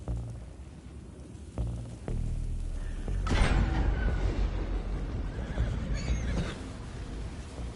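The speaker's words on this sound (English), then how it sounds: "The horses are confused." Horses in the Red Dead Redemption 2 video game neigh and whinny several times over a low rumbling background, with hoof clatter and shifting ambient noise, moderately loud and without speech.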